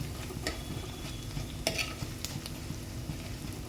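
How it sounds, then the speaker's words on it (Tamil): Chopped ginger and garlic frying in oil for a fish curry, a quiet steady sizzle with occasional scrapes and clinks of a spoon stirring the pan, no one speaking. "ப்ரௌன் கலர் வரைக்கும் வறுத்துக்கலாங்க"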